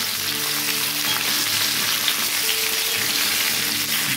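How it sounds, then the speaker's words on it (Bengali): Jujube fruit frying in hot mustard oil in a wok, a steady, dense sizzle close by that holds loud and even throughout, with a faint tonal hum beneath and no talking. "কুলটা দিয়ে ভালো করে ভাজতে থাকবো"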